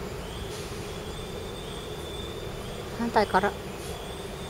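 A train rumbles past at a steady distance, its constant roar filling the background while a voice speaks briefly near the end.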